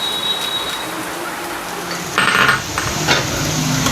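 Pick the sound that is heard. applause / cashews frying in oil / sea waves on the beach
cashews frying in oil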